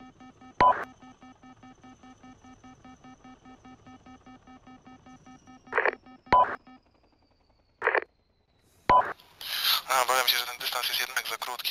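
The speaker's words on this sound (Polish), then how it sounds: "Słychać w ogóle było sygnał namierzania?" A radio tracking locator signal: several short, evenly toned electronic beeps spaced irregularly over a steady faint hum, followed at the end by a louder burst of broadband radio noise.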